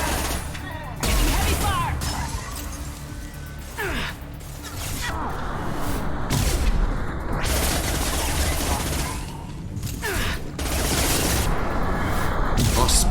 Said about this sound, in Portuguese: Getting heavy fire!